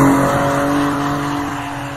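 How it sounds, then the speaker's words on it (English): A heavy vehicle skids with a loud, sustained tire squeal that holds steady and close for about two seconds, with no voices. "It's like a like a box truck drifting."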